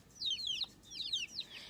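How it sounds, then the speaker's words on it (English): Chickens clucking and calling outdoors in the evening, bright repeated squawky phrases in two quick bursts, close and fairly loud with no talking. "I'm going to show you all my chickens and how I bring them in for the night."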